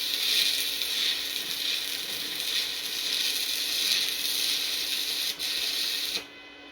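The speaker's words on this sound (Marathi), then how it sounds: "तो बरं वेल्डिंग करा." Electric welding on a farm-made part by a worker in a solar-powered auto-darkening helmet gives a steady, close crackling hiss. The hiss runs continuously and then cuts off abruptly near the end.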